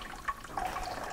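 Water is poured over grain bags to rinse them while brewing a steam beer (California Common), a faint splashing trickle with a soft gurgle, quiet and close with no talk.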